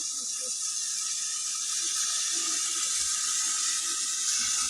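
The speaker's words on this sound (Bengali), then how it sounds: "কলে জল পড়ছে" Tap water runs steadily in a home, a continuous hissing rush that stays even throughout, with faint low background sounds beneath it.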